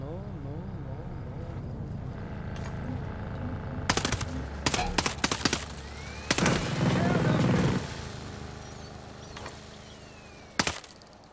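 Gunfire in the video game Ghost Recon Breakpoint comes as sharp, loud automatic bursts and single shots spread across the clip, with engine-like droning and rising tonal sweeps underneath.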